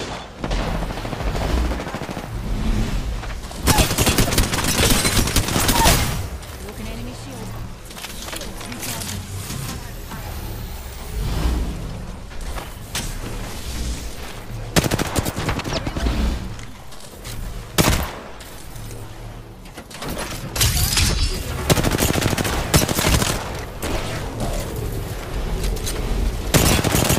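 Apex Legends gunfire during a fast fight, repeated bursts of automatic shots and heavier booms scattered over nearly half a minute, loud and dense against game sounds and a speaking voice.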